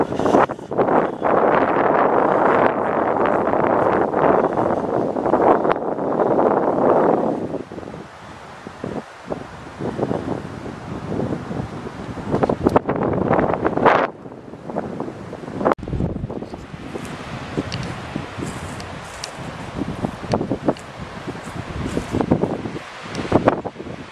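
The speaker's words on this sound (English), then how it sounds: "There's that wind." Wind blows outdoors during a walk in Pinelawn, New York, heavy gusts buffeting the microphone at first, then easing into softer, uneven rushes with some rustling.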